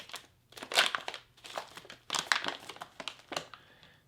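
Crinkly plastic rustling and crumpling in several bursts, close up, as a vacuum-sealed MRE food pouch is handled and opened with scissors.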